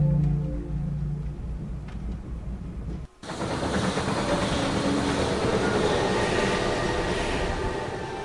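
Train running in the video game The Last Express: a brief ambient passage, a short gap, then loud continuous rumbling rail noise with clattering wheels that carries steadily to the end.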